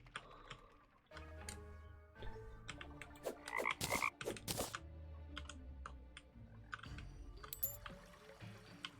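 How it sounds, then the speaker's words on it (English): Frog croaking in the video game Terraria, a few short bursts heard amid rapid keyboard typing and clicking, with game sound effects in the background. "I heard a croaking on the left."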